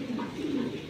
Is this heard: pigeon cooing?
yes